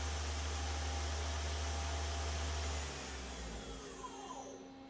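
A 2011 Doosan Lynx 220LMA CNC lathe spindle spins at 4500 RPM, giving a steady, loud whirring hum with a high tonal whine that drops and fades slightly partway through.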